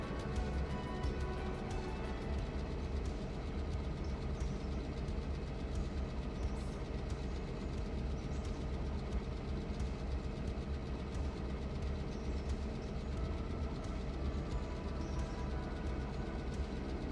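A long freight train of 38 cars including its engines rumbles past steadily, with deep continuous engine drone and rolling wagon noise filling the scene without pause.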